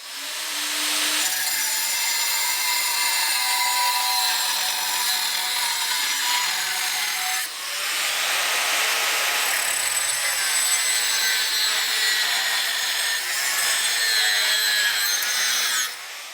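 Square steel tubing cap being cut to fit with a power tool, a steady close grinding-saw whine running almost nonstop with a brief pause near the middle and no talk.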